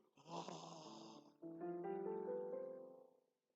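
A person snores loudly and close by in two long, rasping breaths, the second drawn out and tonal before fading to silence.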